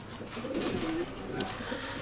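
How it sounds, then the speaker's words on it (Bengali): Fancy pigeons at a pigeon farm in Natore coo softly in a low, rounded call, fairly faint against a murmuring background. "আমরা এটা কি তুরিবাজ কবুতর দেখতে পাচ্ছি না"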